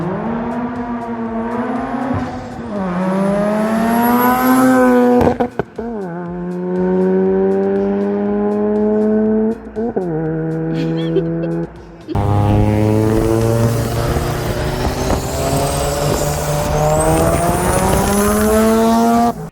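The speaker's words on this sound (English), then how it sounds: "Borg Warner EFR 7670, OS Geiken, lightweight flywheel and clutch, Comp 2AS's, T37s that are real, straight pipe exhaust, it's loud as hell." Loud turbocharged engine with a Borg Warner EFR 7670 turbo and straight pipe exhaust, revving hard in rising and falling pulls with brief lifts between them, close and raw throughout.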